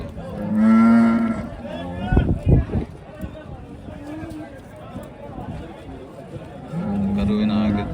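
A Holstein Friesian cow in labour at a cattle market lets out long, loud distressed moos at the start and end, with people talking nearby and thuds and scuffling between the calls.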